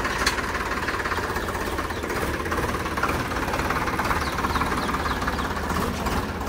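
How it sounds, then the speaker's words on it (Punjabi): A tractor engine runs steadily nearby, a continuous low rumbling chug with a rhythmic knocking pulse and no letup. "ਲੈ ਚੱਲਿਆ ਬਾਈ ਟਰੈਕਟਰ"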